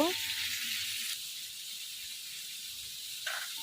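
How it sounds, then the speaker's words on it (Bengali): Large silver carp frying in a pan, a steady bright sizzle that holds throughout and swells slightly near the end, with a faint voice in the background. "বড় একটা সিলভার কাপ মাছ ছিল এটা ভাজি করতেছি"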